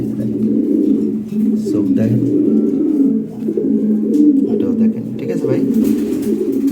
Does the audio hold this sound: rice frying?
no